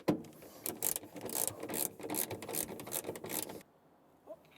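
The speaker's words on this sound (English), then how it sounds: "now I will span the nuts to the right torque" Ratchet wrench tightening nuts to torque on a Miata, a quick run of rapid clicking strokes, close and steady, ending abruptly before a brief quiet tail.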